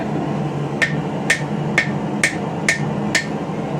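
Hammer blows ring out on hot steel at the tip of an anvil horn as a forged crowbar is bent, six sharp evenly spaced metallic strikes close by over a low steady background hum.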